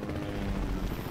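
A helicopter flies in Fortnite, its rotor thumping as a steady, continuous drone that holds at a moderate level for the whole moment, with no voices over it.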